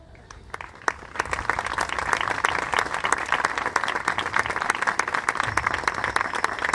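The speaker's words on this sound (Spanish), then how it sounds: "Reiteramos el aplauso." Audience applause at an anniversary ceremony for a city's urban guard, crisp individual claps building quickly into steady, fairly dense clapping that continues throughout at moderate loudness.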